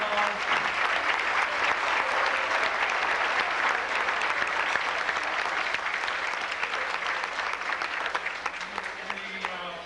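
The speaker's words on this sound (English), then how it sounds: "Please stand up for a round of applause." A banquet audience breaks into sustained, dense applause for a mayor, the clapping loud and even throughout with a faint murmur of voices beneath it.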